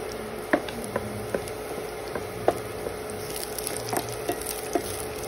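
A pan sizzles steadily while sweet and sour fish cooks, a spatula scraping and tapping in a loose rhythm of sharp ticks over the continuous frying hiss, with no talking.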